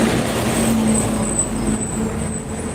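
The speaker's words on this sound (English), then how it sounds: "big trucks going by, a little loud." Big trucks roll past on a road nearby, a loud continuous engine roar and tyre rumble with a steady high whine running through it.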